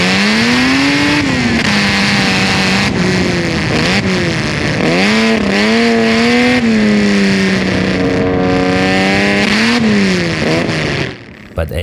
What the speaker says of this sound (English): 6x1 collector adds some smoothness to the sound of the 6-cylinder